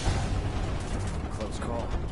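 Grenade blasts in the Final Fantasy VII Remake video game, heavy rumbling explosions with a deep low-end roar sustained throughout, loud and close.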